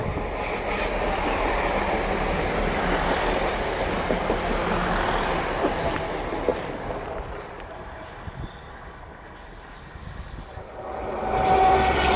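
A short local train on the English Riviera line rolls past with rattling wheels and a faint squeal, loud and close at first, then fading into the distance, no voices.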